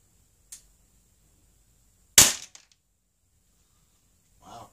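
An Umarex Beretta PX4 Storm air pistol fires Crosman 10.5 grain heavy pellets, one sharp loud crack after a faint click, followed by quiet and a brief voice.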